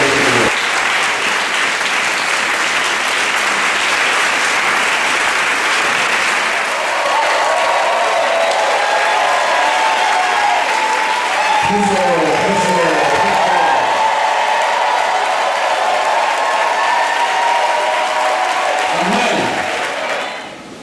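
A church congregation at a prophet's worship service clapping loudly and continuously, a dense wash of applause that carries on for about twenty seconds before tapering off, with a few voices calling out near the end.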